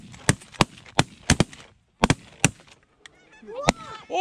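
Snow geese honk during a rainy nine-man goose hunt, their calls mixing with several loud, sharp shotgun blasts fired in quick pairs, the honking rising more clearly near the end.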